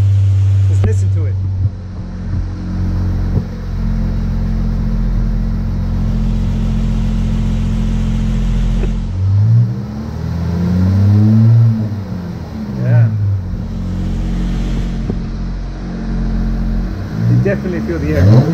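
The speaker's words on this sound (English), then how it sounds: "Go hit the throttle. Just listen to it." Supercharged 3.6L Pentastar V6 with a Ripp supercharger, idling loudly up close and then revved in repeated throttle blips that rise and fall, with people talking over it.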